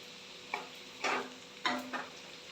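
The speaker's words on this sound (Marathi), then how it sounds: "भाजी ढवळून घ्यायची." A spoon stirs a wild monsoon vegetable dish of spiny gourd with onion-garlic masala in a pan, giving three or four short scraping strokes alone with no talk.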